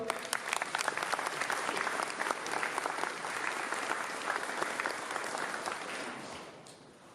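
Audience applause at an accordion enthusiasts' festival in Ísafjörður, Iceland: a dense, steady clapping crowd from nearby that carries on for several seconds, then thins out and fades toward the end.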